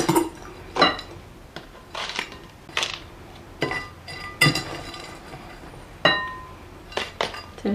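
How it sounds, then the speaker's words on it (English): A plant pot is lined with a small mesh round and filled with potting mix while potting a fiddle leaf fig. Sharp knocks and clinks arrive at irregular intervals, close and distinct, over a quiet background. "I'm putting a little mesh round in the base of my pot, and that is to just stop all the potting mix falling straight through"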